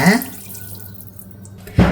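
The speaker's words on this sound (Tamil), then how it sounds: "நல்லா ஒரு லிட்ரு தண்ணி கிட்டத்தட்ட ஊற்றுங்க" About a litre of water is poured into a pan of sautéed ingredients and tamarind for pepper rasam, making a steady splashing rush close by between brief bursts of louder sound.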